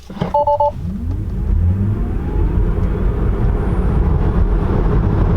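Tesla Model 3 launching from a standstill at full throttle, a short chime followed by a rising electric motor whine and building road rumble that grows steadily louder, close and continuous.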